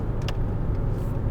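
Engine of a VW MK5 Rabbit just after a downshift on the highway: a steady, even drone with road rumble throughout and no talk.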